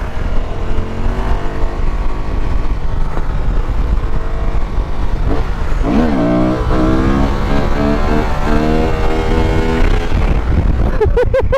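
Honda 500X motorcycle engine revving hard through a wheelie, loud and close, with rising and falling pitch sweeps as the throttle opens and closes.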